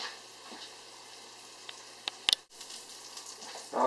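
A slab of giant puffball mushroom cooking in a pan gives a soft, steady sizzle with faint crackles, a few sharp clicks of handling, a brief gap, then a louder hiss of renewed frying.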